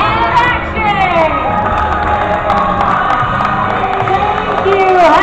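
Loud crowd cheering, whooping and shouting with some applause from a ride audience on the Great Movie Ride at Disney's Hollywood Studios, sustained and dense throughout.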